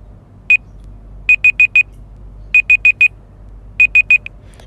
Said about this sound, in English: after the timer finished, they will be ringing on your phone